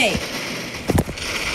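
A short cluster of sharp gunshots from the Roblox shooter game Arsenal, two or three quick cracks close together against steady game background noise, with a player's voice nearby.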